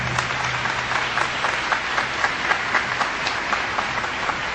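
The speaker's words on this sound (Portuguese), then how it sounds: "Aplauda a palavra de Deus." A church congregation applauds in sustained, dense clapping that fills the space evenly and holds steady throughout, with no voices over it.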